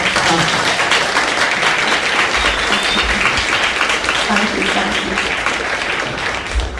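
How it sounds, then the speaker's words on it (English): An audience at a university campus talk applauds for a guest speaker, producing a sustained, full round of clapping from many hands with a few voices mixed in underneath. "you can all join me in giving another round of applause to Dr."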